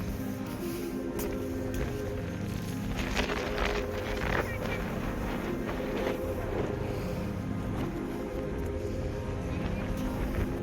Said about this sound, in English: At this time of the day, it's windy with frequent sandstorms.